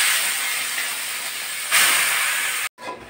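Grated carrots hit hot ghee tempered with cloves and bay leaves, giving a steady bright hiss that swells louder partway through, then cuts off abruptly.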